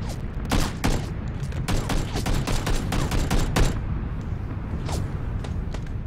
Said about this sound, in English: I'm getting shot by something.